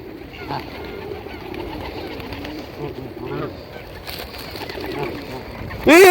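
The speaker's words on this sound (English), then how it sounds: "All the birds are here." Pigeons or doves cooing softly in a steady background murmur, with a few brief calls standing out and a loud clatter at the very end.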